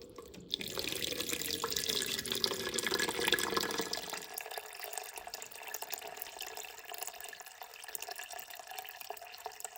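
Filtered water poured onto sprouting sweet potatoes, a steady splashing stream for about four seconds that then thins to a lighter trickle and dribble, close and fairly clear with no talking.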